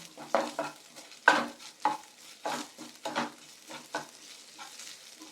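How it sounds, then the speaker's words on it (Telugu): Okra frying in a little oil with ginger-garlic paste and turmeric: close, repeated spatula scrapes and stirring strokes over a soft, steady sizzle, with no talking. "కాస్త అల్లం వెల్లుల్లి పేస్ట్ వేసుకొని కాస్త ఆయిల్లో ఫ్రై అయిన తర్వాత పసుపు వేసుకొని బెండకాయలు వేసుకుందాం."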